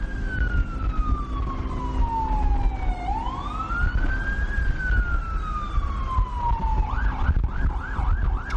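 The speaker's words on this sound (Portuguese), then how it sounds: "Sirenes." A wailing siren sweeps slowly down and up in pitch over distant city background noise in Gaza during attacks, then switches to a rapid yelping pattern, heard moderately far off.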